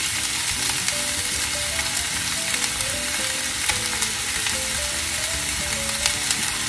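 Green peppers sizzle and crackle steadily in hot oil over medium heat, a close, continuous frying hiss under faint background tones.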